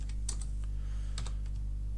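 A few quick keystrokes on a computer keyboard, soft clustered clicks over a steady low electrical hum, close and fairly quiet with no talking.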